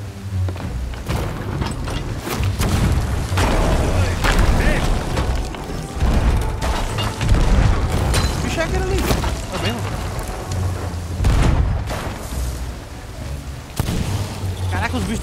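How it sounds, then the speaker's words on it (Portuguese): Ship cannons in the pirate video game Sea of Thieves fire in repeated heavy booms over rolling sea and game ambience, while someone talks excitedly over the action. "Eu vou no canhão, né?"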